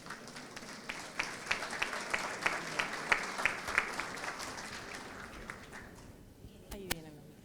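A conference hall full of people applauds steadily, sharp claps layered into a continuous wash that fades out toward the end.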